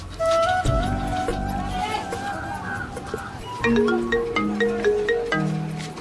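A mobile phone ringing with a loud musical ringtone, a continuous melody of sustained tones with a livelier tune in its second half, playing without pause.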